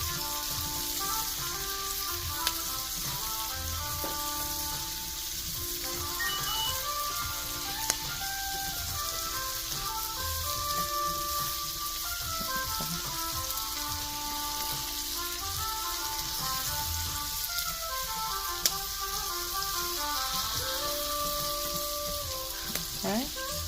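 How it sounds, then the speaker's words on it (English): Bell peppers and a spoonful of garlic sizzling in butter for jerk rasta pasta, a steady crackling fry running throughout beneath a looping musical tune, with a few sharp clicks of utensils. "once the bell peppers are almost done, I put a spoonful of garlic in there"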